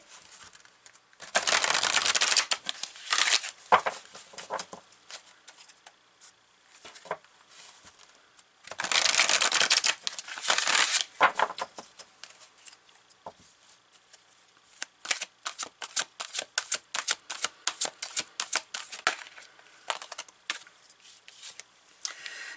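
Tarot cards are shuffled over and over, with long riffling bursts followed by quicker, patchier flicks and taps of the deck, close and clear against near silence.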